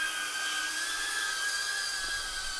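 A small sub-250g FPV drone carrying a DJI Osmo Pocket 3 flies nearby, its propellers giving off a steady, thin, high-pitched whine that holds fairly constant and faint, with no talking.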